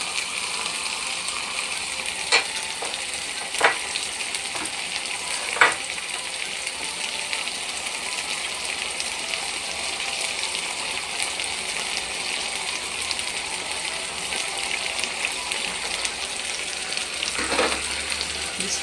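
Chicken wings for Chinese-style honey garlic chicken frying side by side in a pan, giving a steady, moderately loud sizzle with a few soft clicks and taps of a utensil scattered throughout.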